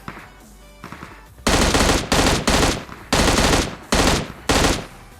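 Automatic gunfire in PUBG Mobile comes in loud, close bursts, several separate volleys of rapid shots with short gaps between them, following fainter sounds at the start.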